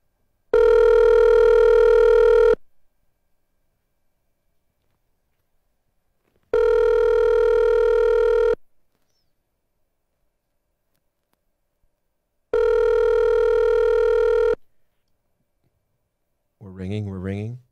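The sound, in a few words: telephone call ringing tone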